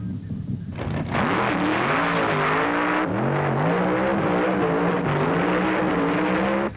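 Nitro-fuel drag racers at the 1972 UDRA Springnationals roar down the strip in a loud, continuous engine howl whose pitch climbs twice as the cars accelerate, with no voices.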